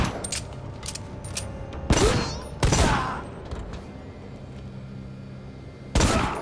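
Huge revolver fired in Necromunda: Hired Gun, three heavy booming shots with long rolling echoes spaced over several seconds, loud against a busy background of distant gunfire and ambient rumble.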